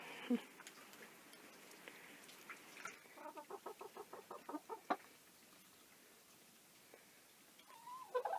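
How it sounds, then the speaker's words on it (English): Soft, quiet clucking from chickens in a coop shared with rabbits, a series of short rhythmic clucks in the middle with scattered calls before and after, close by in a calm setting. "These chickens share their coop with some of the rabbits."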